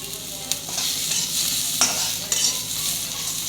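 Onion roasts in a pan and is stirred, producing a steady sizzle broken by several sharp scraping strokes of the spatula, all close by.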